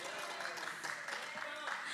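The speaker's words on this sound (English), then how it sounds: "Please welcome 잔치마당 with a big round of applause again." A crowd at a Korean cultural symposium event applauds a performing group, a dense, steady patter of clapping at moderate level with no clear breaks, sounding somewhat distant.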